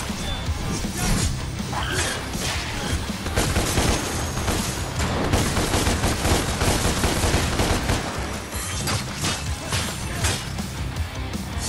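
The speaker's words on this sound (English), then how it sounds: "Now we have Dante's signature guns. Ebony and Ivory." Dante's twin pistols Ebony and Ivory firing in DmC Devil May Cry amid dense, continuous combat: rapid gunfire mixed with smashes, slashes and impacts, loud and busy throughout with no pauses.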